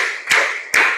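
A classroom group claps twice in unison as part of a counted clap exercise, two sharp, close, loud claps about half a second apart with nothing else heard.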